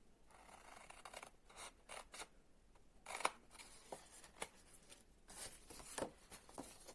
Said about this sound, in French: nous allons couper nos différents rectangle pour pouvoir former le fond de notre écrin